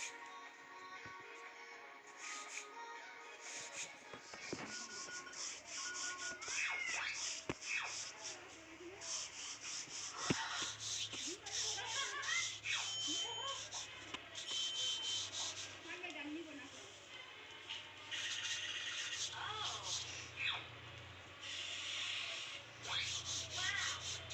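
A knife cuts semolina pitha dough with repeated soft scraping and rubbing strokes against a surface, close up and continuous throughout.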